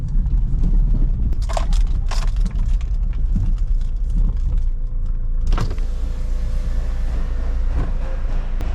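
A car driven into a garage and parked, a steady loud engine and road rumble throughout with a few sharp knocks and clicks, a louder thump near the middle, and no one speaking.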